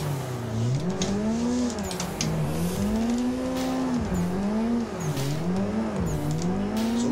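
Nissan 180SX cars drift in tandem, engines revving hard in rising and falling sweeps as tires squeal continuously, loud and close.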